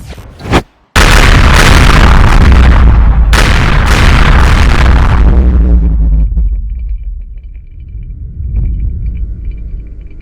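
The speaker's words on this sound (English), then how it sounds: "They're bombing the planet." Huge booming bomb blasts in an audio drama, a planet under bombardment: loud deep explosions with a short gap, then a second heavy blast that rolls into a long fading rumble, no voices.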